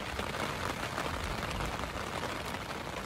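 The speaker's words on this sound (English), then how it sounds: "I'm going to talk loud again because it's raining." Steady rain pattering around a hiker on the Continental Divide Trail in Wyoming, a dense close hiss of drops on a surface, continuous and even throughout, with no voices.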